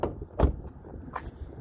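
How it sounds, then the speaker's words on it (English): Power door locks on a 2013 Hyundai Elantra unlock with two quick mechanical clunks about three-quarters of a second apart, close by and otherwise quiet. "Locked, let's unlock them."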